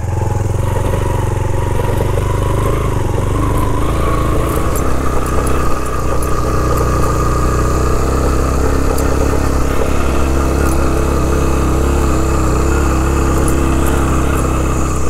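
A motorcycle engine drones loud and steady while riding up a mountain road near Panjpeer Rocks, Kahuta, Rawalpindi, with constant mid-pitched throb, road rumble and wind, no pauses throughout.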